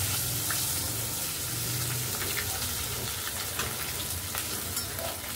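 Fish heads frying in an uncovered wok, giving a dense, loud, continuous sizzle and crackle with small spitting pops throughout, close by.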